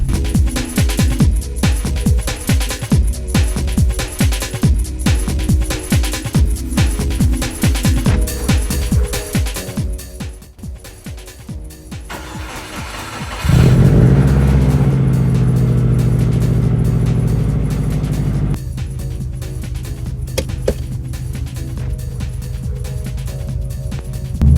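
A 1999 Subaru WRX GC8 being driven, its engine revving hard through gears with rhythmic pulses of acceleration, then settling into a steadier, louder drone at cruising speed, close up and with no talking.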